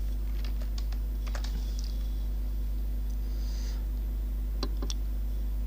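Bursts of keystrokes on a computer keyboard while a question is typed into an online form, uneven and fairly close, over a constant low electrical hum.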